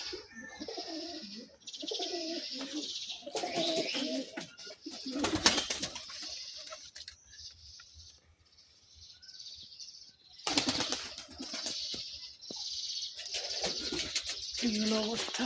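Pigeons in a crowded loft full of chicks coo and flap their wings, with bursts of loud wing beats and soft cooing close by under occasional talk.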